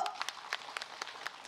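Scattered, light hand clapping from a small group at an Islamic religious talk, uneven and fairly faint, with a few sharper claps standing out.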